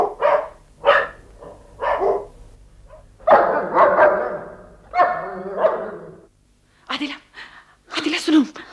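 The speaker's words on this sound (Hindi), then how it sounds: "हाय, कुत्ते भौंक रहे हैं।" Several dogs bark near a back door in a radio play, with loud, repeated barks in uneven bursts and a few yips and whimpers between them.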